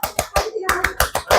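Rhythmic 'tepuk semangat' hand clapping in a classroom cheer, several crisp claps in a quick patterned beat, mixed with brief vocal sounds.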